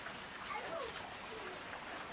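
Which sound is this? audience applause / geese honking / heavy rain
heavy rain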